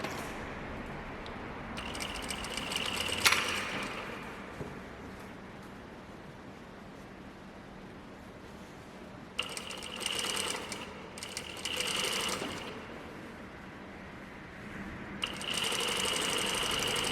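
Sewing machine stitching a shirt cuff onto its sleeve, quiet, close bursts of rapid needle whirring separated by near-silent pauses, with a longer run at the end.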